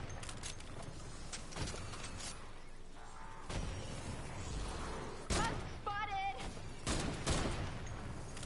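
Rapid gunfire in Fortnite Save the World, with dense crackling volleys and sharp repeated shots in bursts across the scene, loud against game background noise, with someone speaking at times.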